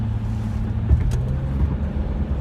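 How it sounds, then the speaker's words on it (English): Steady low rumble of road and engine noise inside a 1999 Lexus GS300 as it drives along, a constant close drone with no one talking. "I'm riding in my Lexus today. It's a 99 Gs300."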